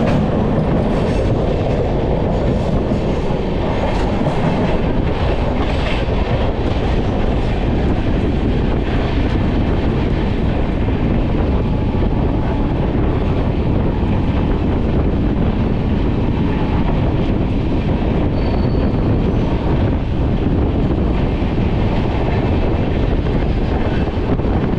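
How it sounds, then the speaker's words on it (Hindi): Sampark Kranti express train running through a station without stopping, a steady loud rumble of wheels and carriages with rhythmic clickety-clack and wind buffeting, continuous throughout. "स्टेशन स्किप कर रही है"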